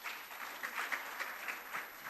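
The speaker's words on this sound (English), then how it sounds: "But I think they deserve a bigger round of applause." Applause from an audience at a literature prize ceremony, a steady, fairly faint patter of many hands clapping throughout with no talking over it.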